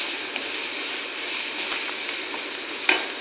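Grated carrot fries in a pan with a soft, steady hiss and occasional light scraping clicks, quiet and close.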